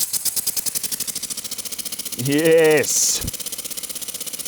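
A homemade piston engine running on compressed air at 4 bar chugs in fast, even pulses up close, with a rattling mechanical edge. A voice briefly shouts in excitement partway through, followed by a short hiss of air.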